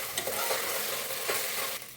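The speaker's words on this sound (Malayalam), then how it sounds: "അത് ചെറുതായിട്ട് ഇതിനകത്തിട്ടൊന്ന് നെയ്യിലൊന്ന് ചെറുതായിട്ട് വറുക്കണം" Rice lightly roasting in ghee in a pan, a steady close sizzle and fry with soft stirring scrapes throughout, easing slightly toward the end; no talking.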